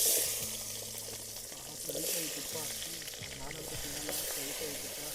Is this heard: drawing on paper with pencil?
no